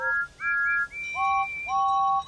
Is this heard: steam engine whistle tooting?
yes